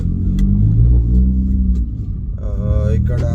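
A car on the road gives a steady, close, low engine rumble, and a voice comes in near the end.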